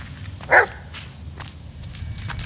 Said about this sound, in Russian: Что там, пес? Говори.